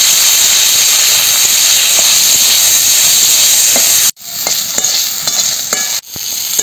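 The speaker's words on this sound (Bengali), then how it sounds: "উচ্ছেগুলো একটু লাল করে ভেজে নেব।" Sliced bitter gourd fries in oil in a pan with a loud, continuous hiss and sizzle, stirred at intervals, the sizzle dipping sharply twice as the pan is handled.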